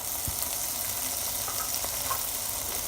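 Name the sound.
beans and carrots frying in a pan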